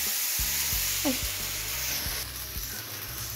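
Tortillas frying in hot oil for enchiladas, giving a steady bright sizzle up close, with a few low knocks and clatters of a pan and utensils underneath.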